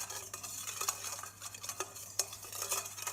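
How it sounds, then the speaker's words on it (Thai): Spoon stirring Thai salad dressing in a bowl to dissolve sugar in boiled water for a noodle salad with chicken breast; a steady run of light, close scraping and clinking taps, with no talking. "คนให้เข้ากันก่อนนะคะ"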